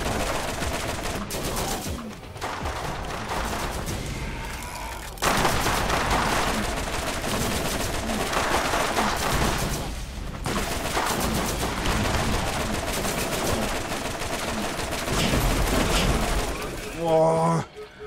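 Sustained weapon fire in the video game Borderlands, dense and loud for most of the stretch with brief pauses, mixed with game effects and someone talking over it.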